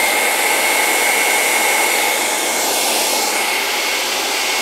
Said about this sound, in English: And let's turn the vacuum on.